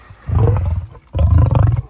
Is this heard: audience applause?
no